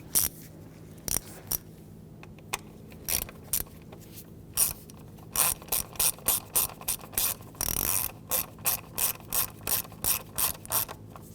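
A spark plug being tightened on a 2007-2017 Jeep Patriot 2.4L four-cylinder, giving a run of sharp ratchet clicks that starts sparse, then speeds into a steady rapid rhythm, close and clear with no talking.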